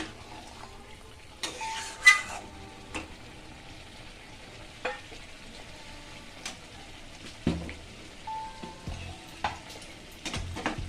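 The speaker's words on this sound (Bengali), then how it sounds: "আমি সামান্য একটু জল দিয়ে এটাকে ভালো করে কষিয়ে নিচ্ছি" Spiced potato dum with cashews and a splash of water being sautéed in a pan: scraping and stirring strokes over a low simmering sizzle, with a few sharper utensil knocks against the pan.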